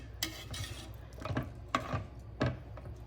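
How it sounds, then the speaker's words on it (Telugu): A moong dal khichdi mixture stirred in a pot, a few soft scraping and rubbing strokes of a spoon against the vessel, close and quiet with pauses between them. "సో ఇప్పుడు ఈ మిక్స్చర్ని బాగా కలపాలండి"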